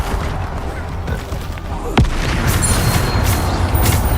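Booming spell blasts from the Bombarda curse in the video game Hogwarts Legacy, a dense rumbling bed of explosions with a sharp crack near the middle, loud and continuous throughout.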